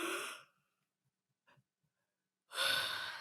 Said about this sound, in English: So I'm about to yawn right now just because I said yawning.